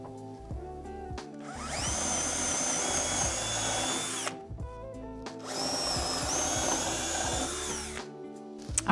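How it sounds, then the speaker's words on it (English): A handheld power drill whirs steadily through two long bursts, each a few seconds, boring holes into a 16-year-old IKEA furniture piece, loud and close with brief pauses between. "with my drill."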